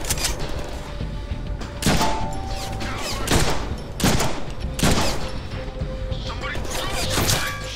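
Video-game gunfire from Deadpool: repeated loud, sharp shots and bursts spaced irregularly across several seconds, with a steady mechanical background underneath.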